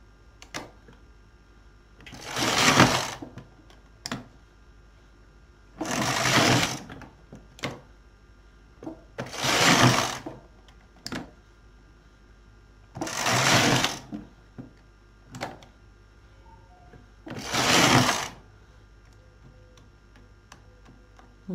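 A knitting machine carriage is pushed across the needle bed for rows of a cotton-acrylic summer dress, giving five evenly spaced loud rasping sweeps with light clicks between them, close and without voices.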